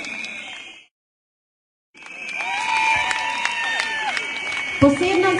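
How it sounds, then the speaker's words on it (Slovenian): Audience applause at a quadrille dance event in Ljutomer, a crowd clapping steadily after a brief silent break, with a voice speaking over it. "Ja, aplavz si zasluži."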